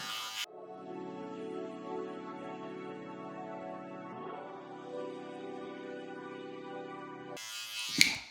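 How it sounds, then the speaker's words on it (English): A cordless hair clipper buzzes steadily at close range for several seconds, a harmonic electric hum that shifts pitch slightly midway, with brief clicks as it switches on and off at each end. "This is the only clipper that I brought. That's a clipper to cut your hair with."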